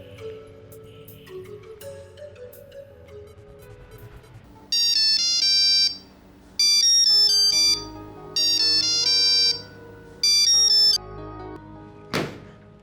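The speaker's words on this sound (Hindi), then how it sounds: "क्यों अनन्या बार बार मेरा फोन काट रही है?" A phone ringtone plays four loud melodic bursts with pauses between, over quiet background sounds, followed by a brief thud at the end.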